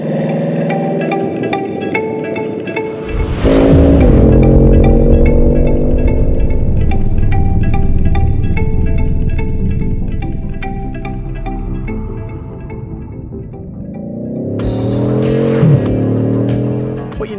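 A Bugatti Chiron supercar drives off, its engine revving loudly in rising sweeps, settling into a steady drone, then surging again near the end.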